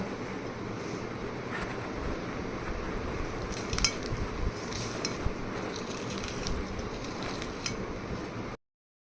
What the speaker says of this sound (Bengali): এখন এই সবগুলো একসাথে হাতে ভালো করে মেখে নিব